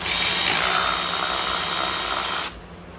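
Milwaukee power tool removing engine bolts from a VG30 engine during a 300ZX rebuild, whirring loudly and steadily for a couple of seconds before cutting off abruptly.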